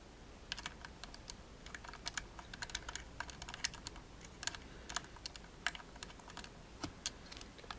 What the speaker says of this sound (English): So you want to put back on the screws.